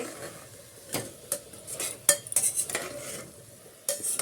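Chicken polao with garam masala powder being stirred in a pot, with several sharp scrapes and clinks of a utensil against metal over a soft, low sizzle.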